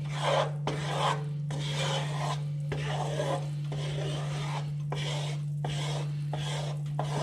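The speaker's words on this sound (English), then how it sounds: "you want to make sure that you continuously stir it" A spoon scrapes steadily around a pot of gumbo roux, giving rhythmic rasping strokes in repeated bursts with short pauses, close up over a constant low electrical hum.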